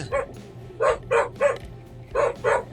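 A dog barks in six sharp, close yaps arriving in two quick groups of three over a low steady background hum.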